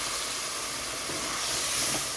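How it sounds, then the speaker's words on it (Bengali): Water poured into a hot pan of prawn and jackfruit masala with potatoes, giving a steady broad hiss and sizzle that rises slightly toward the end, with no voices. "তো এখানে আমি আরও একটু জল দিয়ে দিচ্ছি"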